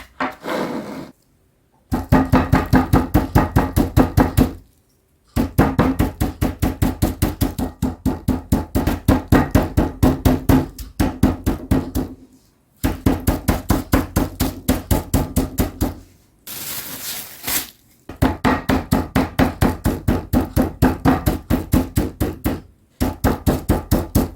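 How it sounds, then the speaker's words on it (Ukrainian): Chicken breast fillet in a plastic bag being pounded with rapid, even thuds in long bursts separated by short pauses, loud and close; no talking. "Філе кладемо у кульочок, відбиваємо."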